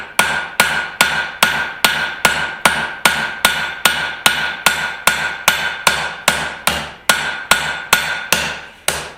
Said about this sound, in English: So I'm using my rounding hammer to try it.